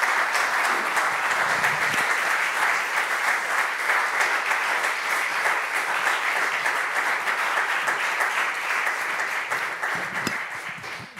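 Audience applause at a conference on restoring Notre-Dame, steady dense clapping from a large crowd held at an even level for several seconds before tapering slightly at the end.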